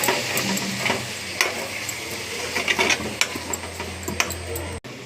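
Tomatoes fry in a pan while a utensil stirs them, giving a steady sizzle broken by irregular scraping clatters, close and fairly loud, ending in a sharp knock.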